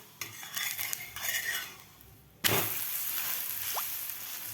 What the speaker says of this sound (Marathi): आता आपण पलटी करून घेऊया थालीपीठ